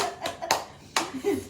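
A few sharp hand claps at a wedding gathering, spaced irregularly and close by, with quiet voices around them.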